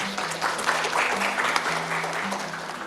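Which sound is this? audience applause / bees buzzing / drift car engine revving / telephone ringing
audience applause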